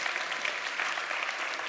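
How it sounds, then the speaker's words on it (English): An audience at a university engineering festival breaks into brief, dense applause, many hands clapping together in a full, even burst. "Big round of applause for Seb and the lasers."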